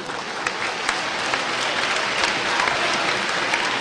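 Audience applause at a university's 75th anniversary ceremony, a dense, even wash of clapping from a large hall that holds steady throughout.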